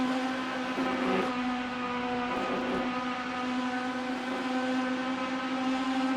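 A steady, loud naturally aspirated V8 engine drone from a Genesis hypercar in the racing game Le Mans Ultimate, strong harmonics, holding speed, continuous with no voices.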